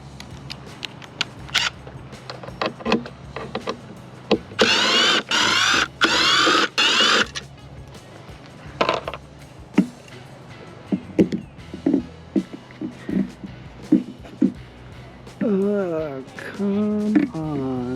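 Torx T20 screws being backed out of a subwoofer panel in a Ford Bronco, with a power driver whirring in a few short bursts between clicks and plastic knocks, while someone talks throughout.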